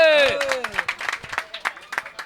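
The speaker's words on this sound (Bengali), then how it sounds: "বাহ ওর জন্য একটা হাততালি হবে" Applause at a crowded cattle market, a loose patter of clapping from a small group that starts under a raised voice and then continues on its own.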